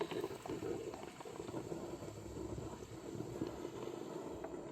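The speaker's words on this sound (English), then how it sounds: "I'm going to start the froth." A Ninja Luxe Cafe espresso machine frothing dairy milk on its own, a soft steady bubbling and churning hiss that carries on evenly, close but quiet, with no voices.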